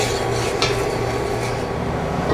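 Corn relish simmering in a pot after onions go in, a steady low bubbling and faint sizzle with a few soft clinks of a utensil against the pot, continuous and close, with no voices.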